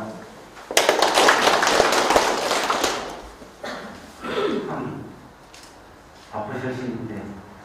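A crowd claps in a dense burst of applause at a town hall meeting with the mayor in Janghowon, Icheon, fading after a few seconds, followed by a speaking voice.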